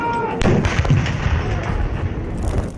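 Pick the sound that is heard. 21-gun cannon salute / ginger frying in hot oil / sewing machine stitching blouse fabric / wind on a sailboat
21-gun cannon salute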